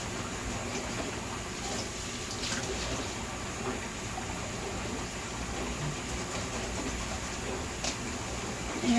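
Water from a faucet runs steadily as a kitchen counter is rinsed clean of dried honey sugar, a constant hissing spray that continues without pause.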